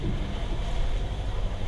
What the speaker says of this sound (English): That's the sound of the water that we're wading through.